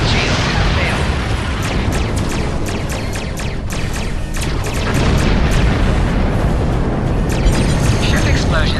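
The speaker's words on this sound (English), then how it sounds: "Ship explosions cause damage." Starship explosions from the Star Trek Online space combat game, sustained loud booming and rumbling bursts layered over continuous battle noise, with ship computer voice announcements running through it.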